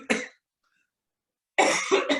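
Two close, sharp coughs from one person, a short burst followed by a silent pause and then a longer, harsher double cough, heard alone in a quiet room.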